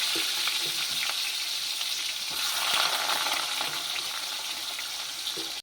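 Plenty of oil sizzles and crackles in a wok as pieces of boiled young jackfruit cook, a steady close frying hiss with occasional stirring scrapes and pops, and no one speaks.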